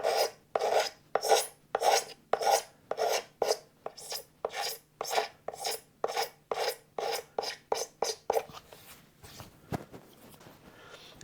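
Hand rasp shaving wood from the body contour of a Squier Stratocaster during a refinish, heard as about twenty steady, close rhythmic rasping strokes that slow and stop near the end, with no talking.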